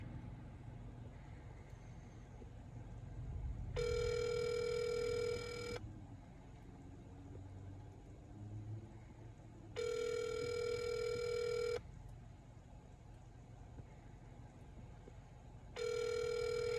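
A phone call to a DoorDash customer over an encrypted line rings back in three long, evenly spaced tone bursts. Each lasts about two seconds, and quiet background rumble fills the gaps between them.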